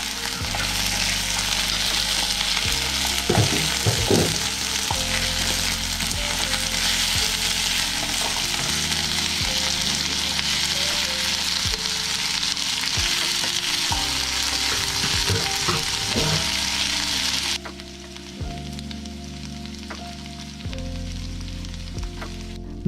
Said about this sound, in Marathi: बटाटे, वाटाणे आणि खडे मसाले घालतोय.